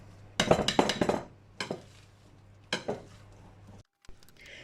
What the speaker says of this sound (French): Donc je mélange avec le fouet, c'est plus pratique, ou alors une maryse